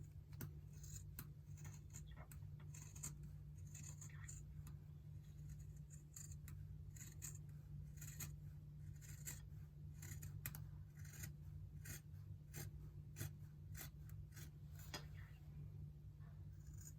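Sharp fabric scissors chop through six stacked layers of quilting fabric in a steady series of crisp snips and slicing crunches over a low background hum.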